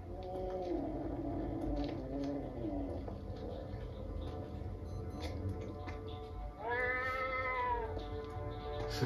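Cat meowing in the Lego Ninjago Movie video game, with a couple of clear drawn-out meows over a busy game soundtrack.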